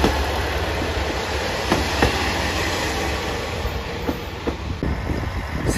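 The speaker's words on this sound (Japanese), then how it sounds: "普通列車徳島駅1200系普通機動車です。" A JR Shikoku 1200 series local diesel railcar near Tokushima rumbles along the track, a steady, loud roar of engine and wheels with scattered clicks and clacks from rail joints, no voices.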